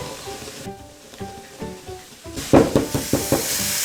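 Beef and onion frying together in a pan, a continuous sizzle with rhythmic stirring scrapes that grow louder and more percussive toward the end.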